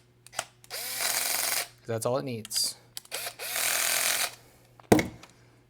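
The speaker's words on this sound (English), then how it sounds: "This particular little drill is on the absolute lowest torque setting it has." A small drill set to its lowest torque drives number 6 screws in several short whirring bursts of about a second each, close by, with someone speaking briefly between them.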